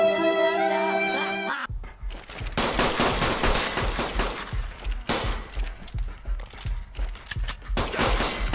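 In the ARK video game, a fabricated pistol fires in fast, dense volleys of close, loud shots after a brief tonal chime, the bursts continuing steadily to the end.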